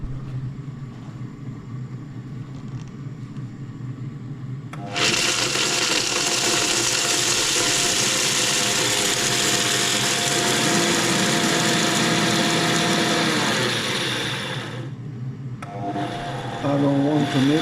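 A grinder running on cacao beans, milling them into fine powder: a loud, steady high-pitched whirring grind starts abruptly after a quieter hum, holds for about ten seconds, briefly drops, then resumes.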